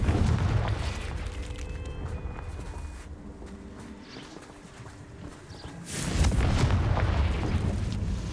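A fiery Confringo spell blast in the game Hogwarts Legacy, heard as low rumbling booms that open loud, fade into a softer lull, then swell again into another deep, heavy blast toward the end.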